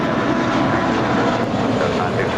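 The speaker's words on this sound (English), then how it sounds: "This departure is American Airlines 2110 departing to Boston. It's an A321." An American Airlines A321 departs LAX for Boston, its jet engines producing a steady, loud roar with broad rumble throughout, while a voice talks over it.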